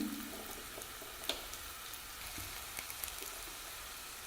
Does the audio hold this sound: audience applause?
no